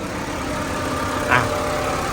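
A 1999 Honda City Type Z sedan idles in park, a steady low engine hum with even mechanical vibration, close and unchanging, with a brief faint click partway through and no talking.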